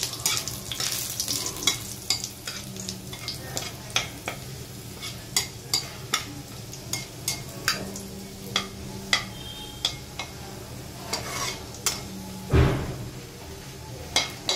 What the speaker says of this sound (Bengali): রসুনের সাথে সাথেই না যে শুকনো লঙ্কাটা রেখেছিলাম সেটাও ভাজতে দিয়ে দিলাম